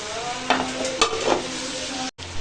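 Tomatoes and green chilies go into frying chicken for a chicken shalgam dish, sizzling steadily in the pan with a few sharper bursts as the ingredients are stirred in, close and fairly loud with no talk.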